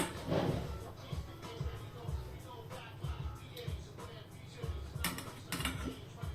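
Eggs are mixed into mashed banana batter in a bowl, with a utensil scraping and clinking against the bowl in uneven close strokes and a few sharper knocks near the end.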